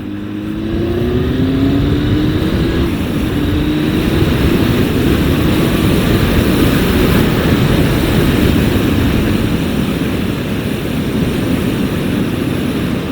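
A Honda Hornet 900 motorcycle engine gives a continuous loud growl of induction noise, rising in pitch early on as it accelerates and then holding steady at speed for the rest of the run, with no talking.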